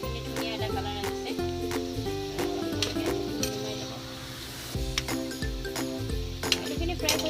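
Potatoes frying in a pan for Assamese mutton curry, a steady sizzle with a spoon stirring and clinking against the pan, close and clear over low background hum.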